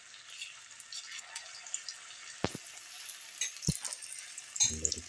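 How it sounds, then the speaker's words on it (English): Shallots fry in a pan with a faint, steady sizzle and crackle, punctuated by a few soft clicks and a brief clatter near the end. "let it fry"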